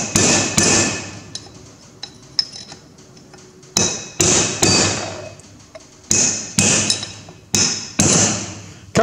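Sharp, loud metal hammer blows ring out close by, about a dozen in irregular bursts, each decaying quickly, driving out the rear axle bearing on a Massey Ferguson 135 six-speed tractor, with no talking.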